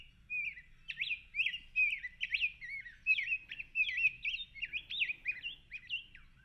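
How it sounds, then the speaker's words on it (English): Rose-breasted grosbeak singing a rich, warbling run of sweet whistled phrases that rises and falls continuously for several seconds, fairly close and clear above a faint low background rumble. "the rose-breasted grosbeak is probably one of my favorite songs."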